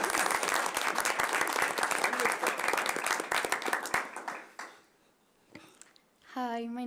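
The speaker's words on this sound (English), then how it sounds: "I think we'll applaud." Applause breaks out in the audience at a school board meeting, crisp individual claps close by over a crowd, lasting about four seconds before fading out; brief voices follow in the quiet.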